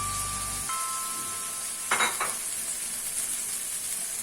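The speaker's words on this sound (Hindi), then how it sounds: "इसको अच्छी तरीके से मिक्स करके इसे 5 मिनट फ्राई कर लेते हैं।" Black chickpeas with chaat masala, crushed chili and tamarind paste fry in a pan with a steady close sizzle, joined by a brief burst of stirring scrapes partway through.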